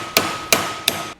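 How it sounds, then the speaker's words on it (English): Three sharp, loud hammer blows at an even pace strike a metal radiator mount for a custom 1937 Zephyr in a workshop. Each impact rings briefly, and no voices are heard. "I'm going to go hammer that."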